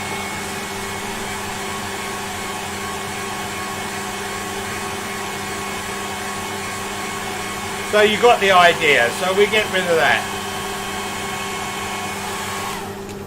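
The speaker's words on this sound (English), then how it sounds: "hairdryer off." A steady whooshing hair dryer hums throughout, with a brief burst of someone talking near the end over the blowing air.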